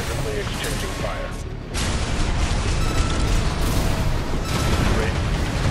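Weapons fire fills the boss fight against the Cataphract tank in the video game Armored Core 6: loud, dense booms and bursts roar without a break, with voices mixed into the din.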